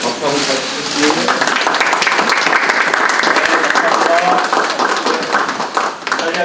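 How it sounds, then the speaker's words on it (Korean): At a political party's launch and unveiling ceremony, the audience claps in a loud, sustained burst of applause, dense and steady from start to finish, with some voices mixed in underneath. "다시 한번 이 상태에서 박수 한번 주시고요"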